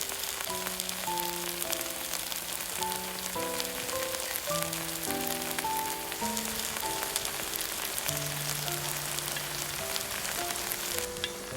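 Minced garlic and chopped scallion fry in raw perilla oil in a pan, a continuous crackling sizzle running under a soft melodic music track.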